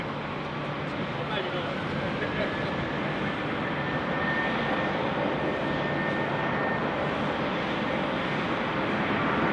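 A Jetstar jet airliner rolls for takeoff on runway 16 right at Sydney Airport, its engines giving a steady, loud broadband roar that holds for the whole stretch and swells slightly toward the end.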